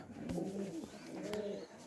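Domestic pigeon kept at home cooing in two close, rolling phrases, loud and clear with no talk over it.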